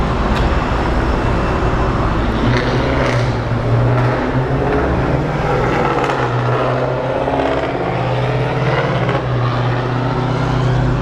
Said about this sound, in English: That is a very loud V6 Camaro